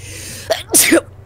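A person with irritated sinuses sneezes indoors in a broadcast studio, a short sharp intake followed by a loud explosive sneeze, heard alone over a steady low room hum.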